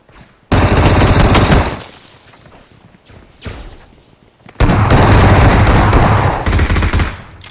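Loud, close automatic gunfire in the battle royale shooter PUBG, two long sustained bursts separated by a quieter pause with a smaller burst in between.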